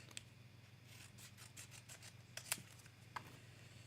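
Hand scissors cutting apart cardstock pieces for a paper craft project: faint, close snips and light rustling scrapes, a few sharper clicks of the blades scattered among soft papery sounds, quiet and without speech.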